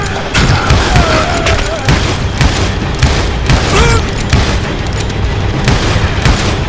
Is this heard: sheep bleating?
no